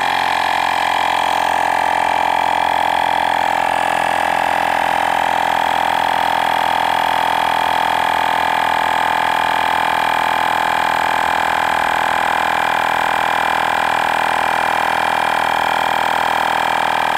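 A Fanttik X8 portable tire inflator drones loudly and steadily as its small motor and pump run without a break, filling a race bike tire to 110 PSI, with no voices over it.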